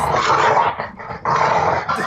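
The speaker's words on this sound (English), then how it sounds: "your dog is distracting me loud." A dog growls and barks loudly and close by in two sustained bursts separated by a short pause.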